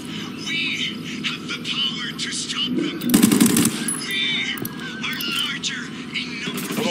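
Automatic gunfire in the video game Ghost Recon Wildlands crackles in bursts, peaking in a loud sustained volley midway, with game voices and other combat sounds mixed throughout.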